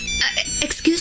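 A mobile phone ringtone rings with bright electronic tones in a Cebuano-language drama scene, brief and fairly loud.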